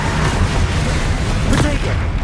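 A Bombarda blast spell goes off in the video game Hogwarts Legacy, a dense, loud rumbling explosion with a sharper burst near the end amid steady noisy combat.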